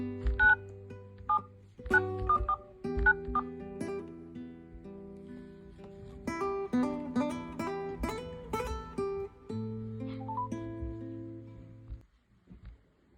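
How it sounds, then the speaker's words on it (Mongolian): A telephone dials a number, producing a quick series of clear keypad tones in uneven bursts, close and distinct, with no talking over them. "За одоо би эхчийнхаа утас руу залгаадах юм."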